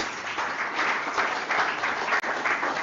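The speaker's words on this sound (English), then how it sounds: "Please give him a round of applause." Sustained audience applause at a postgraduate students' research workshop, dense steady clapping from a crowd filling the whole stretch with one brief dropout near the end.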